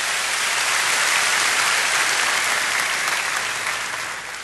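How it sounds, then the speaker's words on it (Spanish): Steady applause from a church congregation honoring the Lord during a sermon, a dense wash of clapping that holds loud and even before easing slightly at the end. "Dele un buen aplauso al Señor."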